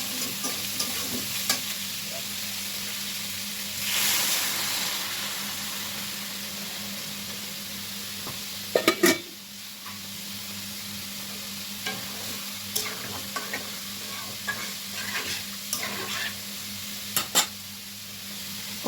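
Spice paste sizzles steadily in a pan while being stirred for a Bengali pabda fish and cauliflower curry, with occasional scraping knocks of the spoon against the pan, close and continuous, with no talking.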